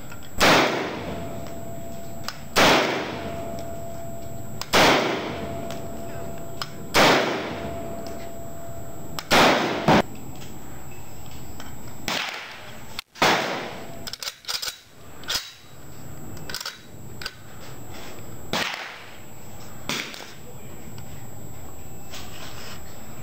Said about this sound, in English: Test fired this Plainfield M1 carbine